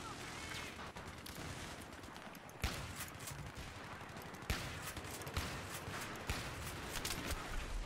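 Rapid gunfire in Battlefield from a Magnum pistol, a dense, distant-sounding rattle of shots with a few louder cracks standing out, over constant battlefield noise.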